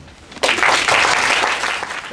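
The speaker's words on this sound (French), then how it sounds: "s'il vous plaît, faites-moi le plaisir d'applaudir Jon" An audience at a lecture on memory and trauma breaks into dense applause after a short quiet lead-in, a steady wash of many hands that fills the rest of the brief moment.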